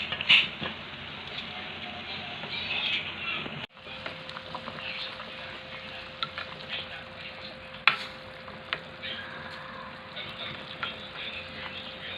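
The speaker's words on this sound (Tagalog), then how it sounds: "Gugulayin na natin, sahugan natin ang bangus." Milkfish (bangus) soup with malunggay leaves cooking in a pot, a continuous bubbling sizzle with occasional clanks of a utensil stirring, close and steady throughout.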